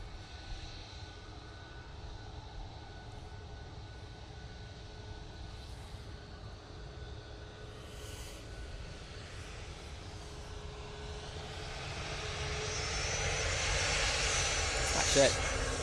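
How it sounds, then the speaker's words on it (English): A Ryanair Boeing 737 MAX 8 jet at Manchester airport rumbles in the distance and grows steadily louder toward the end as it approaches, with faint talk heard over it. "Ryanair now coming on in front of us using the 737 MAX 8."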